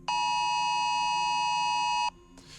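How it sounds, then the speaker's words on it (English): A wireless emergency alert phone alarm sounds as a loud, steady multi-tone blare for about two seconds, then cuts off briefly before starting again at the end, with no talking. "That's that classic alarm that you get on your phone if something bad is going on."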